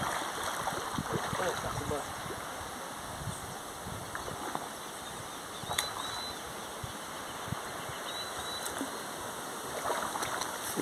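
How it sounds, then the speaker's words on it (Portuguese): Steady, broad rushing of falling water fills the whole stretch, continuous and fairly loud with no pauses. "barulho da cachoeira, as águas"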